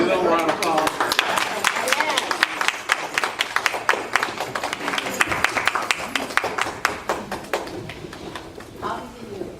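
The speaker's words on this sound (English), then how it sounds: "So give them a round of applause." A crowd at an entrepreneur event applauds a panel of speakers, producing a sustained, dense roar of many hands clapping rapidly for nearly ten seconds, with voices talking over it.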